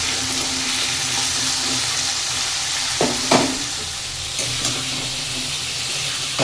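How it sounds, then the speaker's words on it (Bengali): Papaya and potato pieces fry in a pan with a loud, continuous hiss and sizzle close by, broken by a couple of sharper spatula scrapes and taps. "পেঁপে আলুটাকে ভেজে নিচ্ছি, একটু লাল লাল করে ভাজবো"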